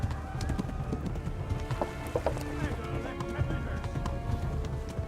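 Horse galloping with rhythmic clip-clop hoofbeats and an occasional neigh in the video game Kingdom Come: Deliverance, set against game ambience with someone talking over it.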